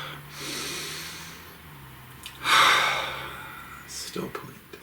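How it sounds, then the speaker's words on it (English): A single deep breath drawn in and then let out, heard close and fairly soft against faint background hiss, with a slight snort-like rush at its peak. "Please take a nice deep breath."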